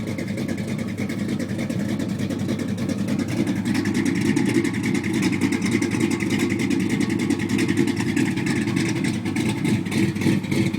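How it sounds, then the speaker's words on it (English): A 1985 Chevy S10 pickup with a small-block 350 V8 and dual Flowmaster 40 series exhaust runs steadily near the microphone, a deep throbbing rumble with a slight rise in revs midway and no talking. "Dual exhaust, 40 series flow masters."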